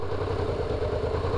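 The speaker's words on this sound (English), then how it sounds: "Hear the engine?" A motorcycle engine idles at the clutch biting point with a steady, close, low throbbing rumble that runs throughout without any talking.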